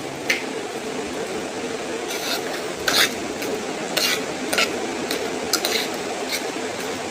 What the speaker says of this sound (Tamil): வதக்கின வெங்காயம் கடலப்பருப்பு எல்லாத்தையும் சாதத்தோடு போட்டு நல்லா கிளறிக்கோங்க